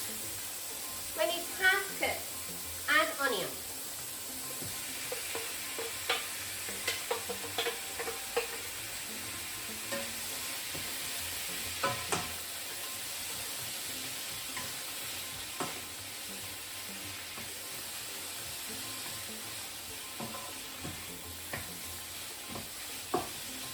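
Chicken and onion fry in a wok with a continuous sizzle and occasional utensil scrapes and taps, while a faint voice speaks in the background.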